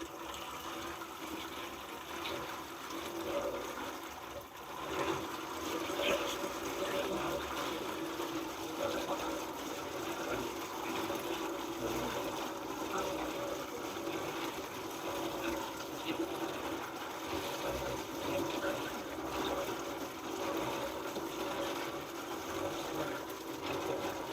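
Water runs steadily through a hand-cranked coffee bean pulper while wet coffee beans are processed, a continuous, even rushing and splashing that holds for the whole stretch with no talk.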